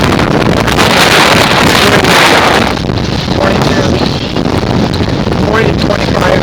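A sailboat sailing uphill in 30-knot winds near Peter Island, with strong steady wind roar buffeting the microphone over rushing water and hull noise throughout.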